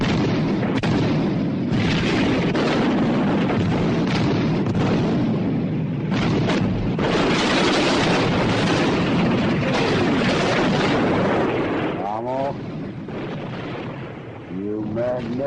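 A war film battle scene erupts into a dense, continuous artillery barrage, loud and close, with booms rolling over one another and voices breaking through near the end.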